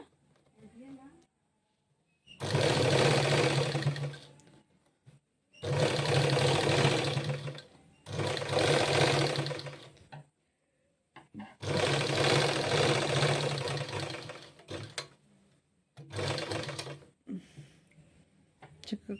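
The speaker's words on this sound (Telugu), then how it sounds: "మామూలుగా బ్లౌజ్ అయితే స్టిచ్ చేస్తున్నాను అనమాట." A domestic sewing machine stitches the neckline of a blouse in four or five bursts of close, loud whirring, separated by short pauses.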